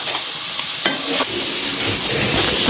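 Spices frying in a pan for fish curry, an intense close hiss of hot oil with a few sharp clatters of utensils, continuous and loud, without speech.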